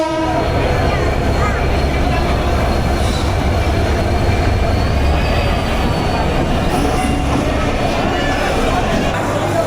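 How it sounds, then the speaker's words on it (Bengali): Padma Express locomotive 6631 hauling its train, with a loud steady rumble of wheels and engine running throughout at close range, a faint horn-like tone above it, and a voice talking over the noise. "এই যে পদ্মার লোকোমোটিভ, এই হচ্ছে আমাদের আজকের লোকোমোটিভ।"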